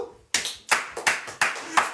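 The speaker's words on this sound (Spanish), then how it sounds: "les aplauso a Jesucristo, gloria a Dios" A church congregation claps in unison, with about six sharp, evenly spaced claps in a steady rhythm, each one close and crisp with short pauses between them.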